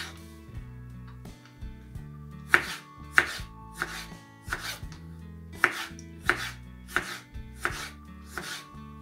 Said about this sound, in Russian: Помидор кубиком.